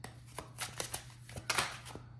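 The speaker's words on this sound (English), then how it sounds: "I'm going to shuffle this" A deck of tarot cards being shuffled, with a quick series of soft riffling bursts and card flicks close by, quiet and spaced irregularly with no talk over it.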